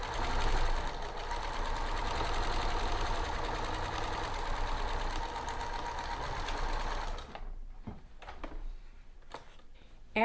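Sewing machine stitching a dress pocket, a fast continuous mechanical whir running steadily for about seven seconds, then stopping, followed by a few faint clicks and handling noises.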